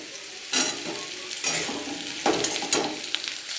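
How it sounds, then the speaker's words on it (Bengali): Bitter gourd, potato and pumpkin fry in oil in a pan. A close sizzle rises with repeated scraping stirs of a spatula at irregular intervals. "আমি এবার উচ্ছে আর আলুটা লাল লাল করে ভেজে নেবো"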